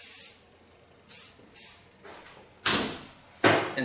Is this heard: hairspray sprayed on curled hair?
yes